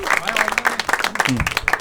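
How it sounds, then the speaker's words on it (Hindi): Audience applause for two contestants on a comedy debate show, a bright patter of clapping mixed with a voice and crowd noise throughout. "भाई लोग पहले तो दोनों के लिए तालियां"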